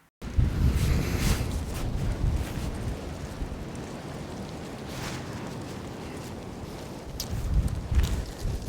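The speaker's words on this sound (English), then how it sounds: "it is super windy out here" Strong wind buffeting an outdoor lavalier microphone, loud low rumbling gusts that swell and ease continuously, with heavier bursts near the start and end and no talk.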